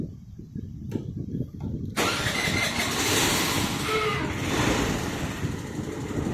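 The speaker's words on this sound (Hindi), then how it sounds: "आपको मैं स्टार्ट करके दिखाता हूँ और इसकी नॉइज़ सुनाता हूँ" A 2006 Honda Activa scooter engine, 15 years old, cranks with a short electric starter whir, then catches and settles into a steady, close idle with a slight rev.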